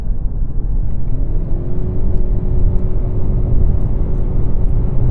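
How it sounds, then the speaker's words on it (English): A Ford Kuga hybrid with a CVT gearbox accelerating hard from 40 to 70 on a dual carriageway, heard from inside as a loud, constant engine and road rumble with a steady rising drone held throughout. "It's because it's got a CVT gearbox and it just sounds like it's complaining"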